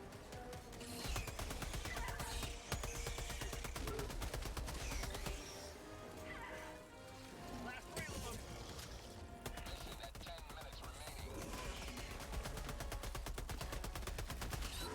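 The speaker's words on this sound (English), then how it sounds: "Where's my laser cannon? I called down the laser." A laser cannon strike in the Hellmire video game: dense, crackling, blast-like bursts and rumbling impacts that run almost without a break for about fifteen seconds, loud throughout, with voices talking over parts of it.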